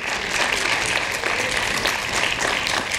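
A full audience claps without pause after a four-hands piano recital of Liszt's Hungarian Rhapsody No. 2, a thick, steady roar of hands sustained throughout.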